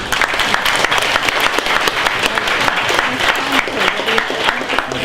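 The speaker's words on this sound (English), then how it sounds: "Alright, can we have a round of applause for this?" An audience at a youth hackathon show-and-tell claps for a team's project, giving dense, continuous applause with a few voices mixed in.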